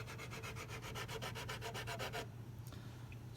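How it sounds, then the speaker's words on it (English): Fret leveling tool sanding the edge of a guitar fret, a quick run of about a dozen even back-and-forth rasping strokes up close, then it stops, leaving near quiet with a faint tap or two. "it's starting to sand the edge of that fret like this"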